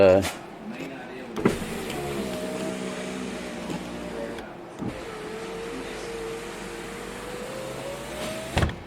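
Electric power windows on a 2007-2012 Nissan Versa run up and down in two long motor whines, a steady rising hum each ending with a thunk as the glass stops, close up inside the car.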